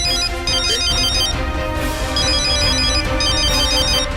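A phone ringtone plays continuously, a bright repeating electronic melody in steady loops, loud and close with no voices over it.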